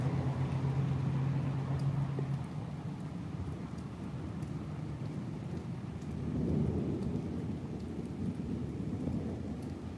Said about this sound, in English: When the thunder's distant,